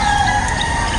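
Roosters crow on a morning at home, a steady, fairly loud call that fills the whole second with sustained tones.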